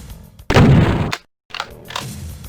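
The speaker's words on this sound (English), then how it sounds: "It even sounds better than the normal shotgun." A super shotgun fires in DOOM: one loud, close, booming blast lasting most of a second, cut to silence, then quieter rumbling game sounds follow.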